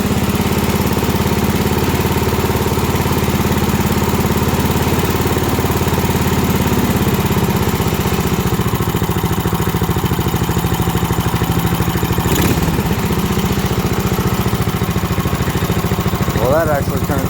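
A Wheelhorse RJ58 lawn tractor engine running at a raised idle, a steady, close, buzzing putter that holds constant, with a brief disturbance partway through.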